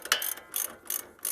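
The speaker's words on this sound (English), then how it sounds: "Once you get the bolt nice and snug, we go ahead and torque it to 96 foot-pounds" Ratcheting torque wrench clicking in quick bursts as it tightens a front shock bolt on a Mercedes ML W163, close and distinct with brief pauses between strokes.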